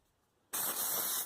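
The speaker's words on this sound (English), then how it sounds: "a little hit of spray glue, working from the center out, smooth it down" Spray glue bursts from an aerosol can onto quilt fabric, a sudden close hiss that starts abruptly after a quiet moment and holds steady for under a second before cutting off.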